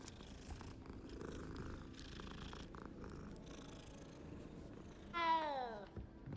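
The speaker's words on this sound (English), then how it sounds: "What's up, kitty?" A cat purring in a Hogwarts Legacy game scene, a low steady rumbling purr that ends in a short, clear meow near the end, faint overall with no talking.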